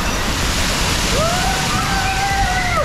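Water splashes and pours continuously at the Pirates Cove Aqua Park aboard the MSC Seashore cruise ship, a loud steady rush close by with a faint whistle-like tone rising through it.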